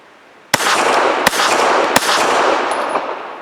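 A Walther PPQ SC compact pistol fires three sharp, loud shots at a steady, unhurried pace, each crack followed by a ringing outdoor echo, with no talking.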